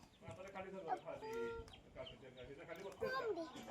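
A hen clucks softly in short bursts, mixed with quiet talking nearby.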